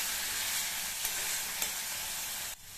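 Onions sautéing in oil in a pan for capsicum kara kuzhambu, a steady hissing sizzle with a couple of faint clinks, close and even until it cuts off abruptly near the end.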